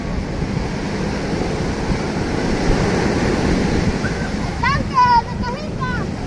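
Ocean surf rolls in continuously at Puerto Marqués beach, a loud, broad wash of waves with wind buffeting the microphone and a few faint bird-like chirps near the end.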